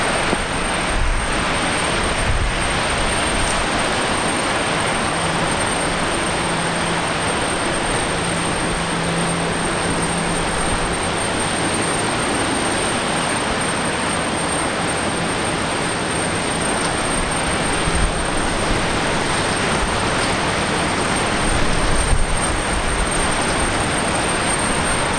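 Airliner landing on runway 01 right at Brisbane Airport, a long steady roar of jet engines heard from a distance, loud and continuous with no talking.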